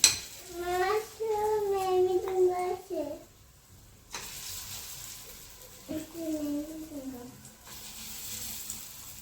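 Dal bora frying in oil gives a steady soft sizzle beneath a voice and a child's, continuing quietly in the pauses between their talk.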